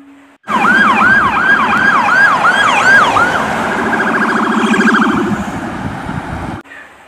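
A toy police patrol car's siren wails loud and close in a rapid, repeating up-and-down sweep for about six seconds, then cuts off abruptly, with no one talking.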